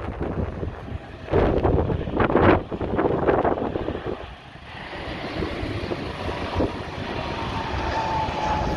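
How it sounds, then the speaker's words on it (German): A small airplane lands at Madeira airport, its engine drone and rushing air rising then settling into a steady roar, heard from outdoors with heavy wind buffeting the microphone. "ist das ein kleines Flugzeug, oder?"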